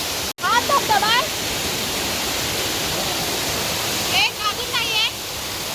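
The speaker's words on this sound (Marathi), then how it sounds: "हा धबधबा आहे." A waterfall on the Bhimashankar trek roars as a steady broadband wash of falling water, constant and fairly loud throughout, with a person speaking briefly over it near the start and again near the end.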